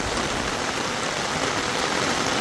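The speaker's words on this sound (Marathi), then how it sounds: "पावसाचा तुम्ही आवाज घ्याच केवढा पाऊस पडतोय" Heavy rain pours down steadily in a dense, unbroken hiss, close and loud throughout with no voices.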